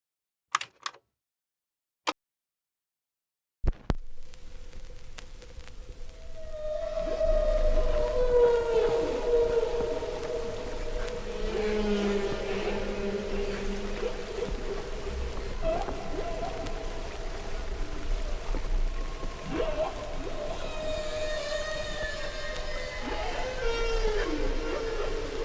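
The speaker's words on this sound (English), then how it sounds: "Because whale songs are so alluring, I had hoped that if enough people heard them, they might rise in anger and force whaling to stop." Long, sweeping whale song calls rise and fall, moaning and wailing through a hissing ocean backdrop, after a few sharp clicks and brief silence at the start.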